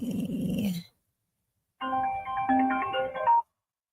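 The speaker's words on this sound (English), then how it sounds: "I'm getting phone calls." A phone's ringtone sounds for an incoming call, with a short melodic burst, a brief silence, then a longer tinkling chime phrase, close and clear.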